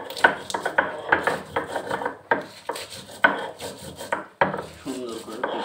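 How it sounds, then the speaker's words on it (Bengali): Cardamom pods for a fish curry are crushed by hand, giving a series of close, gritty grinding strokes and knocks, rhythmic and loud with short pauses between bursts. "কয়েকটা এলাচ দিয়ে দেব। এবার এগুলোকে পিষে নেব।"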